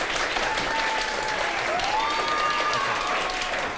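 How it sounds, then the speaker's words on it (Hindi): A studio audience on a Pakistani morning TV show gives dense, continuous applause at an even level throughout, with a faint whistle-like tone drifting over the clapping. "हमारे जो ऑडियंस है ये जरा तालियां बजा के बताइए इनके लिए"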